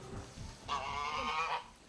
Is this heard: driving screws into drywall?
no